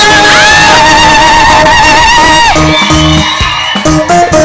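A crowd at an outdoor church praise gathering lets out high, wavering ululations that ring loud and sustained, then give way to drums and music in the second half.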